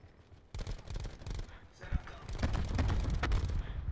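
Rapid automatic gunfire in Call of Duty: Black Ops 4, dense repeated shots clattering through a busy game mix after a quiet start, with a voice talking under the action.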